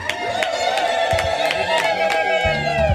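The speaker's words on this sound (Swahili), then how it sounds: "Hivyo ni vigelegele vingi sana hivi" Wedding crowd ululating in high wavering trills, several voices together with cheering and some clapping, loud and continuous.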